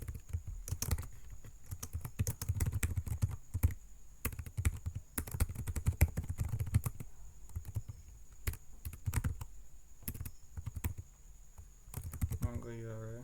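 Rapid clacking of a computer keyboard as code is typed, irregular bursts of keystrokes close to the microphone, with a voice talking briefly at the end.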